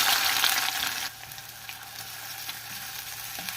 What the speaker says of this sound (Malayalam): വെളിച്ചെണ്ണ ചൂടായിട്ട് നമുക്ക് ചതച്ച് വെച്ചിരിക്കുന്ന ഉള്ളിയും വെളുത്തുള്ളി ഇഞ്ചി ഇട്ട് കൊടുക്കാം.